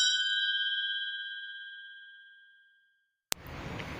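A bright notification bell dings once and rings on, fading slowly over about three seconds. After a moment of silence, a short click cuts in, followed by low background noise.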